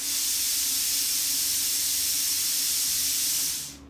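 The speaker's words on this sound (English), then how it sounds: "you can hear the air coming out of it" A steady, loud hiss of compressed air streams out of a plasma cutter torch continuously for several seconds, then tapers off at the end.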